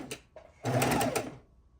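A sewing machine stitches a quilt border in short close bursts, with a brief stutter followed by a louder steady run of about half a second.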